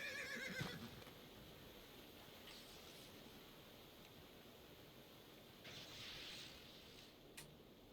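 A horse neighs in the online role-playing game DDO, giving one brief whinny at the start over a faint, quiet background hiss. A couple of softer game sounds follow later.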